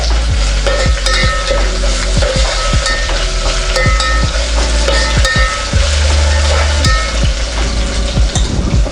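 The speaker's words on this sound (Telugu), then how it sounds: "కొంచెం ఇప్పుడు అల్లం వెల్లుల్లి పేస్ట్ యాడ్ చేసుకుంటున్నానండి. దీన్ని కొంచెం ఆయిల్లో కరగనిచ్చేసి" Ginger garlic paste fries in hot oil with a loud, dense, continuous sizzle, punctuated by frequent sharp clinks and scrapes of a utensil stirring against the pan, close up with no talk.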